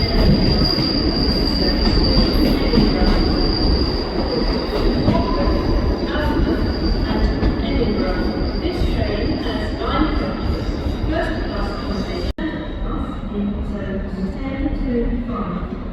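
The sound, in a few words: Northern train unit 156482 arriving at Newcastle station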